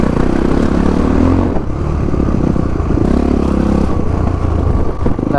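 A motorcycle engine drones steadily while being ridden on a road, with an MTX125R and a Crossfire 450RR on a group ride, loud and close with wind rumble and no talking.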